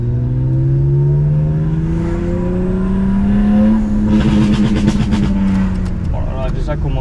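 A Stage 3 tuned BMW 135i engine revs steadily upward, its exhaust droning and resonating loudly for several seconds before easing off, with some crackle near the end.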